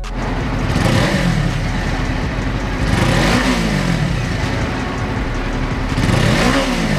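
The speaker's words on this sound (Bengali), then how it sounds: "এই বাইকটির সাইলেন্সার পাইপের সাউন্ড অনেক বেশি ভালো" A loud, continuous engine roar with rising and falling revs, a Suzuki GSX250R 250cc motorcycle exhaust being throttled up and down close by.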